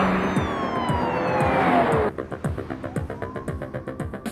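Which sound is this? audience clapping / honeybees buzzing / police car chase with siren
police car chase with siren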